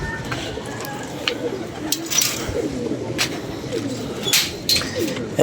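Pigeons coo repeatedly close by, soft throaty calls over constant low background noise, with a few sharper bird sounds and rustles scattered through.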